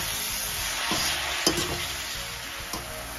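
Mung bean sprouts fry in a pan for a sprouts masala stir fry, with a soft continuous sizzle and a few faint stirring scrapes and knocks, close by and without talk.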